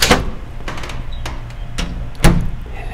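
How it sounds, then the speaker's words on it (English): Several sharp metallic clacks and a loud thunk as a door is unlocked with a keyring in a video game, spaced unevenly over three seconds and heard close without talk. "I used the keyring to unlock the door."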